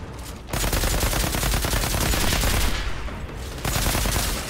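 Rapid automatic gunfire from a weapon in the video game Outriders, loud close bursts in a dense rhythm, with one brief gap before the firing resumes.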